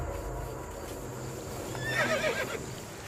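A horse whinnies, a high wavering neigh rising briefly over a steady low ambient background, moderately distant.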